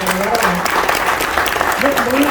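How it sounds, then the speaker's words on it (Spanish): Audience applause for a guest at a talk about reading, a continuous patter of clapping from a gathering that carries through while a voice speaks over it. "Un aplauso para Laura."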